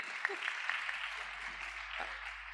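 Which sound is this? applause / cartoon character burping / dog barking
applause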